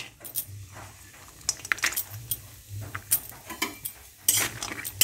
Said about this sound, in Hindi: आमि किछु लाल चीनी बादाम नियेछि, भेजे निच्छि एई कड़ाइए।